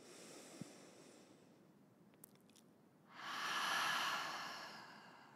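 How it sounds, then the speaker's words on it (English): Deep breathing during yoga practice, a soft drawn-out exhale early on, then quiet with small clicks, followed by a long, fuller breath that swells and fades, close and intimate. "Last one. Deep breath in."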